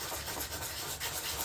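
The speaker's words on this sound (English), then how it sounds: "pretty close to finished sanding" Hand sanding across hardened filler on a fiberglass door panel repair gives a soft, continuous scratchy rubbing, close and fairly quiet, with slight rhythmic strokes.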